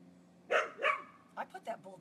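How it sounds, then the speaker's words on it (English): A bulldog shut in an outdoor kennel barks twice, then lets out a quicker run of shorter barks, fairly clear and at moderate distance against a quiet background. "I put that bulldog out in the kennel today. If you wonder what that barking is"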